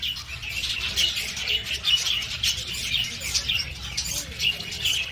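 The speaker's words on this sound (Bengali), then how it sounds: "এখানে কি সুন্দর কত পাখি রয়েছে" Many birds call at Kajal Dighi, a park lake in New Digha, in a busy overlapping chorus of chirps and squawks, steady and fairly near against a low background rumble.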